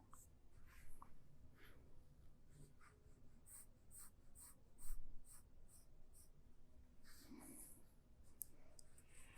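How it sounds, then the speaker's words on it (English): A pen or pencil sketching car design lines across the body side and fenders on paper: soft, steady scratchy strokes with short repeated dashes, very close and quiet. "I'm going to start to map out some of the main character lines onto the body side, the fenders."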